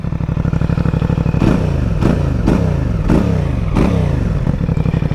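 A CF Moto 450 SR-S low-capacity sports bike engine runs close up at a steady idle, broken by about five sharp revs that climb and fall in quick succession.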